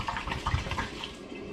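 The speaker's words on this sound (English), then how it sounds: "I'm going to pour the raw apple brandy solution" Raw apple brandy from a spirit run being poured into a demijohn, a close, fairly loud gurgling trickle of liquid that splashes busily at first and then thins out.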